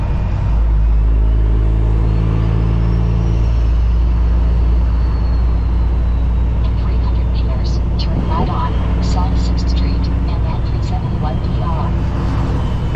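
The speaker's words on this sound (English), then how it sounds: "Every time I hear that turbo spool up" Semi truck engine and turbo rumbling loud and close inside the cab during a Minnesota storm, a steady low drone that builds with a faint rising whine, with a person talking over it.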